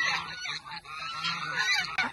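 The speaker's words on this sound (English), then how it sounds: "There's just geese everywhere." A flock of domestic geese calls continuously, with overlapping honks and harsh cackles close by and loud, no talking over them.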